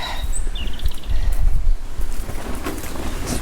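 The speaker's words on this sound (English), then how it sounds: "It's really windy." Strong gusty wind outdoors on a blustery day buffets the microphone in rumbling low bursts, with faint rustling and a few distant high chirps behind.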